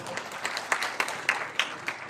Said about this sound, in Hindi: सभी लोग जोरदार तालियों से स्वागत करें।